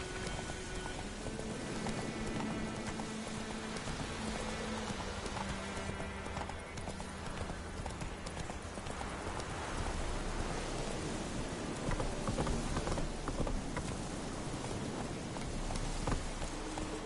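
Roach the horse gallops through rain in The Witcher 3 video game, hooves clip-clopping in a quick steady rhythm over a constant hiss of rainfall and low background music, with no speech heard.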